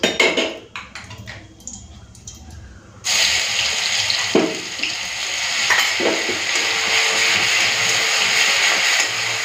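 Ground spice paste hitting hot oil in a frying pan after whole cumin has been toasted, a sudden loud sizzle that bursts in and holds as a steady, crackling hiss, with a few soft scrapes and clinks from earlier handling.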